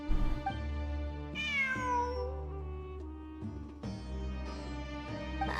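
A cat meows in the video game Genshin Impact, a drawn-out, rising and falling call heard twice over steady, layered game music.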